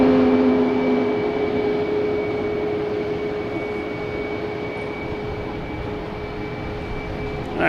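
An Alaska Airlines airliner at Boston Logan Airport produces a steady, broad jet roar with a sustained whine, holding at moderate loudness and easing slightly over several seconds, heard alone without voices.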